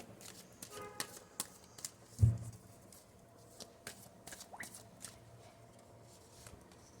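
Tarot guidance cards are shuffled and drawn, giving a run of soft, close flicks and riffling taps in uneven bursts, with one louder thump in the middle, all quiet and with no one speaking.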